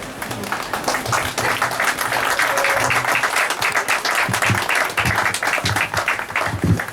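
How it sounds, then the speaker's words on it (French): An audience at a local adult running race and raffle event in Gouesnac'h applauds loudly and continuously, dense clapping that swells and stays strong throughout, with no speech over it. "on peut les applaudir hein"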